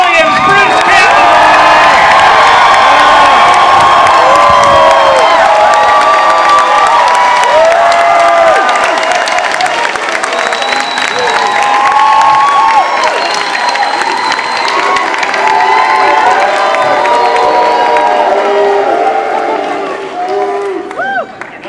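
A large Comic-Con audience greets Bruce Campbell at the 2015 San Diego Ash vs Evil Dead panel with sustained loud cheering, whoops and applause that never lets up.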